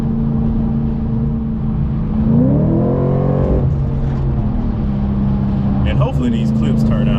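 A supercharged Audi B8.5 RS5 with a JHM exhaust drones steadily, then its exhaust note swells through a rev and falls away on a downshift, loud and close throughout.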